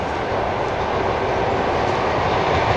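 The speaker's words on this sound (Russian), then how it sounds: "Вон там электричка проезжает." An electric commuter train rumbles past steadily at night near a forest, a broad continuous roar of rolling wheels holding at an even, fairly loud level.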